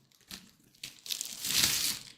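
Packaging crinkles and tears as a flashy, mirror-like wall-hanging decoration is unwrapped up close, with short crumpling bursts building into a louder, sustained rustle near the end.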